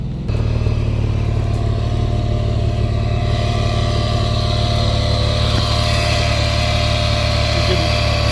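A Porsche 911 Carrera 2S engine idles steadily up close, a loud, constant low drone with a rough grinding edge from a worn alternator bearing, running alone without speech.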